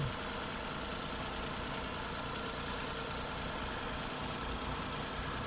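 A Hyundai Eon engine idles after its intake manifold has been removed and refitted. It gives a steady, even hum up close, with no talking.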